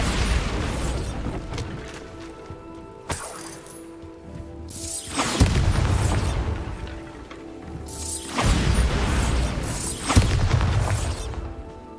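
Repeated Bombarda explosion spells in Hogwarts Legacy, several heavy booming blasts with crashing debris and whooshes arriving every few seconds, loud and close, no talking.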